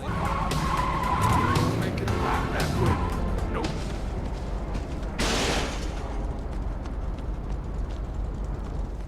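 A Saints Row 2 vehicle crash and skid plays out as a loud, rough scraping rush over engine noise, with a sharper impact burst partway through, all under continuous game sound.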